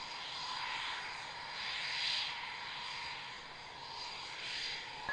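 A Typhoon jet climbing away on takeoff at Waddington gives a steady, broad roar at a distance, swelling and easing slightly with no talking.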